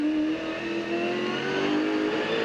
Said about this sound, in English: FTR Falcon through the sweeping left-hander. 5th gear through here in the Fords, in excess of 200 k's an hour.